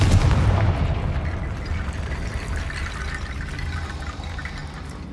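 Confringo fire spell blast in Hogwarts Legacy, a loud booming hit at the start that rolls off into a long rushing, fading roar.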